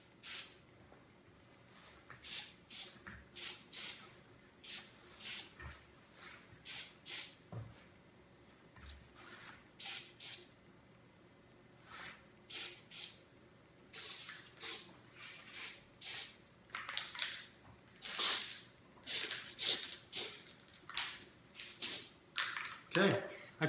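Tanglefoot adhesive is sprayed onto a blue cup in many short, hissing bursts at an irregular pace, close by and fairly quiet.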